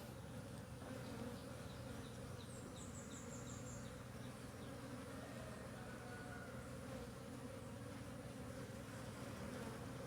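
A dense swarm of honey bees hums continuously around a hive box, a steady, enveloping buzz with no pauses and a few individual bees passing nearer.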